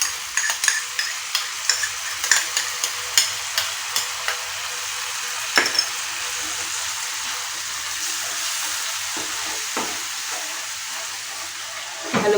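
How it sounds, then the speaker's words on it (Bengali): Whisked yogurt is stirred into a frying mixture in a pan for a Bengali steamed egg dish, with quick rhythmic utensil strikes over a bright, steady sizzle that continues after the stirring slows. "দইটাকে ভালো করে ফেটিয়ে আমি এটার সঙ্গে মিশিয়ে দিলাম।"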